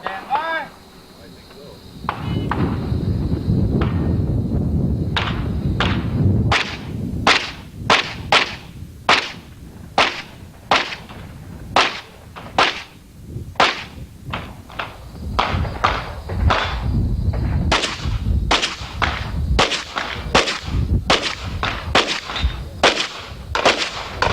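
Rapid pistol gunshots at a 1992 practical shooting national competition, fired by a 14-year-old shooter in an uneven string of sharp loud cracks, with steady crowd and ambient noise underneath.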